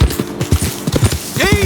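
Horses clip-clop in Red Dead Redemption 2, with several quick, close hoof strikes in uneven rhythm, followed by a short whinny near the end.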